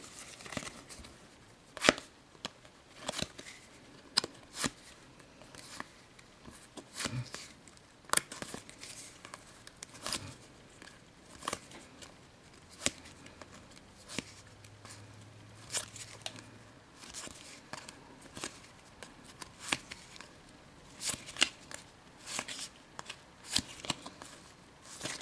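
Panini Champions League 2012/13 sticker cards being handled and shuffled, soft intermittent flicks, slaps and papery rustles scattered irregularly, fairly quiet and close, no speech.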